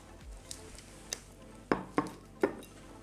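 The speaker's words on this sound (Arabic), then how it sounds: "بجيب صحن بكبسها شوي ضغطها، بعدين بقلبها" A plate pressed down on rice in a bowl, then flipped over, giving a few soft taps followed by three sharper ceramic knocks and clinks, close and fairly quiet with no talking.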